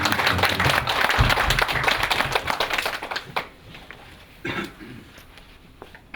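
An audience at a university innovation performance forum in Korea claps in appreciation of the organizers, a loud burst of applause that fades after about three seconds into scattered claps and a cough-like sound.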